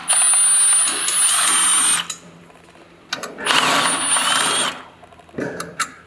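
Impact gun removing bolts from a Polaris 9R CNS clutch assembly, two loud close whirring, rattling bursts of about two seconds each, followed by shorter clicks and brief buzzes.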